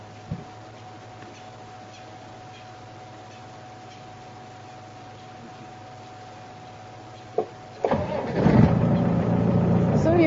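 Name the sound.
diesel safari vehicle engine starting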